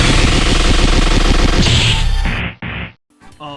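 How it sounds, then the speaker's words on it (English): Iron Man's Proton Cannon attack in the M.U.G.E.N fighting game: a loud, dense blast of rapid-fire energy bursts that runs for over two seconds, then breaks into a few short hits and a trailing crackle. "Proton Cannon!"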